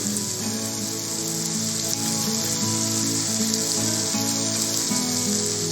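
Turmeric, coriander and Kashmiri chili powders fry with onions in a pan, giving a continuous even sizzle and crackle close up, with no talking.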